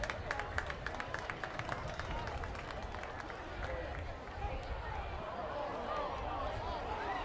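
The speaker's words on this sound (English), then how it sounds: "Lancers are clapping." Rhythmic group clapping from players and fans at a high school varsity football game, sharp regular claps in the first seconds that fade into crowd murmur and field noise as an announcer talks over it.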